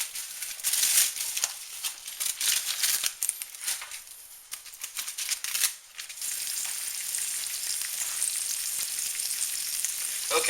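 Philly cheesesteak meat fries in a hot pan, giving a steady, close sizzle with bursts of crackling and light scraping. No one speaks.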